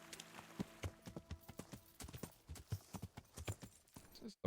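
A horse's hooves clop in Kingdom Come: Deliverance, a quick, uneven run of close hoofbeats that continues steadily throughout.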